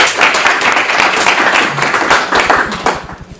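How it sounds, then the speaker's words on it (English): A conference audience applauds before a presentation, with loud, close clapping that thins toward the end into a few distinct, evenly spaced individual claps. "before it begins, a round of applause,"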